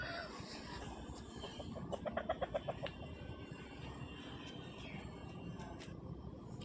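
Clucking rises from a rooster about two years old and near 4 kg at Feko Haat, a village fowl market in Jhargram, West Bengal: a quick burst of pulses mid-clip over faint market bustle.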